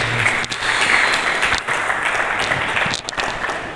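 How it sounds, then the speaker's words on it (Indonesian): A church congregation breaks into applause during a service, a sustained crowd of clapping hands at a steady, lively level with small dips and no speech above it. "Mari kita berikan tepuk tangan yang meriah kepada Tuhan Yesus"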